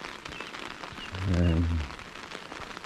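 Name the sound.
rain hitting an umbrella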